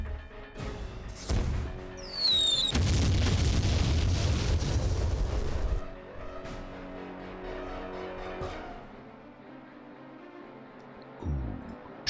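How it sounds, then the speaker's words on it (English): Mortar rounds from the Jagged Alliance 2 video game land with loud booming blasts, one strong explosion followed by a long rumbling tail and smaller crashes, then a later thud. "go with the mortar."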